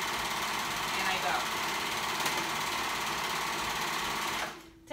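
Sewing machine stitching dress fabric, a fast, steady mechanical whirr running close and continuous for several seconds before it stops abruptly near the end.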